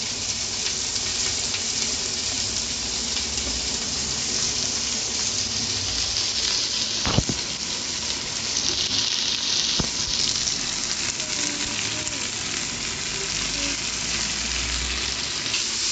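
Sliced onions and green chillies sauté in a pan for a chicken curry, giving a steady close sizzle and frying hiss throughout, with a few brief clinks of stirring.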